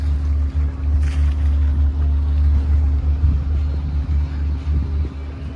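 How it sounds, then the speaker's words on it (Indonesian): Steady low engine rumble with a constant hum on the rear deck of a fast ferry waiting in port at Probolinggo, loud and continuous with faint background activity and no talk. "ini situasi deck paling belakang, teman-teman"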